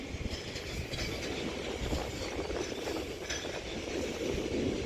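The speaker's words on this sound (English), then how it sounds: "we've also got an Elizabeth Line 345 departing for Abbey Wood" An Elizabeth Line Class 345 electric train leaves Reading station for Abbey Wood. It gives a faint, distant rumble with soft wheel clatter and a steady rolling hiss.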